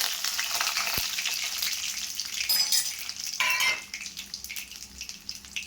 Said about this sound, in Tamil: ரெண்டு ஸ்பூன் உளுத்தம் பருப்பு சேர்த்துக்கிறேன்